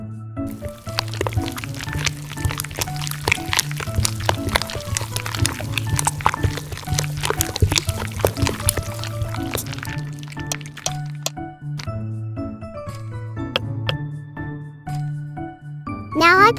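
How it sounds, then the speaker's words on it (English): Thick rainbow-coloured cake batter poured into a square cake mold, giving close, wet splats and soft squishes in an uneven stream, with clinks of utensils over light background music. "Now I pour the cake batter into the mold in rainbow color order."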